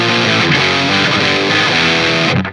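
Electric guitar with Fishman Modern active pickups through a distortion pedal, pushed to a metal-style gain, plays dense saturated chords. It is loud and sustained, then cuts off sharply at the end.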